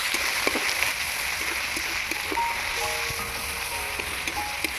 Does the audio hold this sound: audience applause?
no